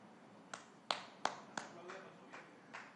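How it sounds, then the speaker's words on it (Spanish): A person claps hands about seven times in a slow, uneven rhythm, sharp close claps at first, then softer ones, in a quiet setting at an official ceremony. "¿Y por qué aplaudes al revés?"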